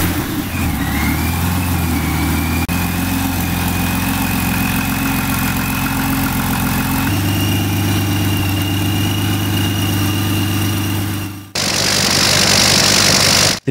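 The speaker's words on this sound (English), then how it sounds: "The Fairchild Ranger represents another engineering achievement, featuring an inverted radial V12 configuration optimized for aviation, delivering approximately 550 horsepower." A Fairchild Ranger inverted V12 aircraft engine of about 550 horsepower runs steadily and loudly at a low, droning idle, then cuts briefly before a harsher, louder roar starts near the end.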